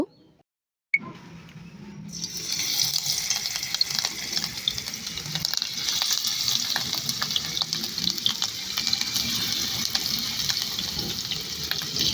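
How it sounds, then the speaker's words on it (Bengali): Rohu fish pieces, rubbed with salt and turmeric, sizzle steadily in hot oil, a dense continuous frying hiss that starts abruptly after a brief quiet moment and stays loud and close throughout. "তারপর আমি মাছগুলোকে ভেজে নিব।"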